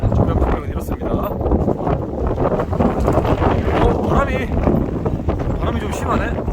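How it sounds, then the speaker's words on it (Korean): Strong wind blows outdoors at an abandoned motel, heavy continuous buffeting against the microphone with gusts, while someone talks over it. "바람이 좀 심하네"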